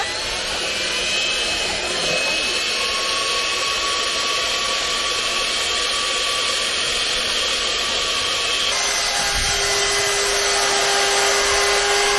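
Power mixer with a paddle stirring European-style wall plaster in a bucket, a loud continuous motor whine with a steady drone throughout and a shift in pitch near the end as the speed changes.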